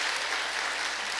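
A church congregation claps in thanks during a Korean Sunday worship service, a steady, even wash of many hands clapping, soft and distant throughout with no voices.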